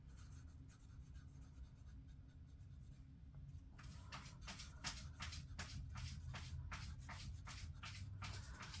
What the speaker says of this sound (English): actually gonna come in with a Sharpie because of the texture of these stickers.